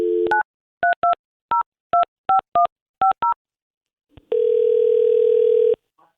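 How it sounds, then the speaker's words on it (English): Telephone keypad dialing in a radio studio: a short dial tone, then a rapid series of about ten crisp touch-tone beeps, a pause, and a long ringback tone, all clear and close with no talking. "Let's get him on the phone."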